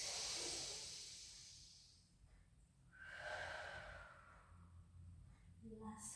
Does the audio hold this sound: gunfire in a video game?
no